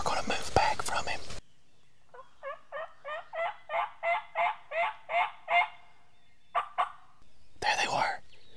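Wild turkeys gobble in a run of about ten rhythmic calls from a distance, bracketed by close hushed whispering from hunters before and after.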